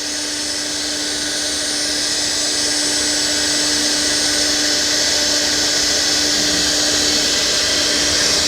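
A woodworking machine in a furniture factory cutting a plywood board runs as a loud, steady high-pitched whine with a constant tonal hum, sustained without a break.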